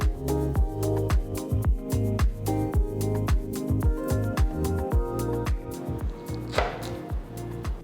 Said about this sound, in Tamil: இந்த ரெசிபியில் பலாக்காய் நறுக்கிறது தான் கொஞ்சம் சேலஞ்சிங்கான பார்ட்.